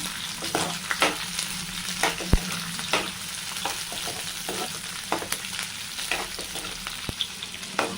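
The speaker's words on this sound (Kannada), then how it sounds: "ಮತ್ತೆ ಹಸಿಮೆಣ್ಸಿಕಾಯಿ ಸ್ವಲ್ಪ ಫ್ರೈ ಮಾಡ್ಕೊಳ್ಳೋಣ" Green chillies fry in hot oil for a chicken biryani, a soft continuous crackle punctuated by sharp pops and repeated scraping stirs, close and fairly quiet.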